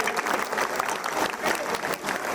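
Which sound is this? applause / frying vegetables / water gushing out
applause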